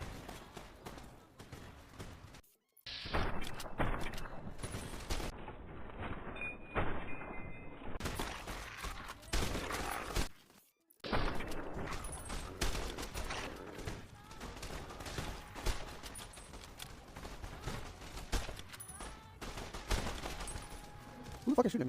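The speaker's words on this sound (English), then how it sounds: "Who the fuck is shooting me?" Gunfire in Fallout: New Vegas, with repeated shots and bursts crackling through much of the scene amid other game noise, with a voice talking over parts of it.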